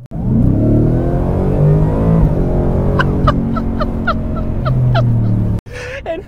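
A 700-horsepower 2023 Ford Raptor R truck accelerating hard, its loud engine note rising steadily up through the revs, then a brief break and gear change near the end.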